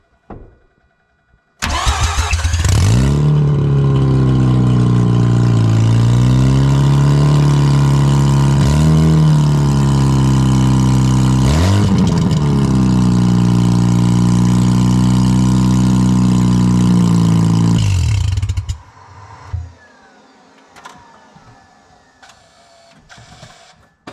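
A Mazda RX8 with its exhaust removed cranks and fires up loudly, idles raw and close, and gets a couple of sharp throttle blips before shutting off, leaving quiet rattles.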